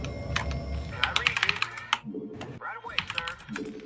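Rapid computer keyboard typing clatters in uneven bursts of keystrokes during a StarCraft-style strategy game, mixed with game sounds and a voice speaking over it.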